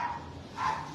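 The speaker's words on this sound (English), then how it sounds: "And then that's our dog Bella upstairs" A dog barks from upstairs in a house, two short muffled yelps spaced about half a second apart, fairly faint and distant-sounding with no talk over them.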